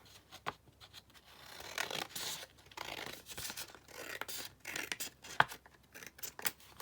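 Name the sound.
cutting paper for a junk journal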